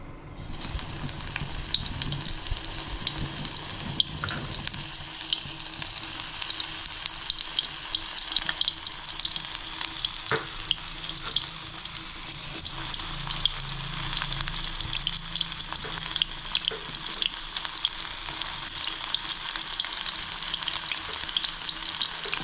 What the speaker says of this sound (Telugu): ఓపెన్గా పెట్టడం వల్ల ఇటు అరటికాయ కూడా చక్కగా ఫ్రై అయిపోయింది. మరొక ఫ్రై చేద్దాం.